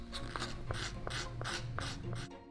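A shoemaker scrapes and rasps leather while shaping a bespoke shoe by hand, with about seven rhythmic, evenly spaced rough strokes sounding close and clear, and no voices.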